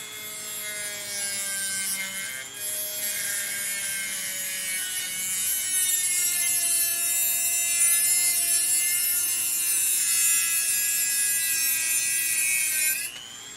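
A power tool trims down a DartZone TomCat blaster part, giving a steady, loud, high-pitched grinding whine that runs nearly unbroken for over ten seconds before cutting off, with no voices.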